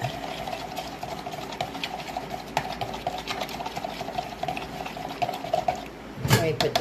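Orange melt-and-pour soap is stirred in a container, giving soft repeated scraping and sloshing taps at a quick irregular rhythm, close and fairly quiet, ending in a louder clatter.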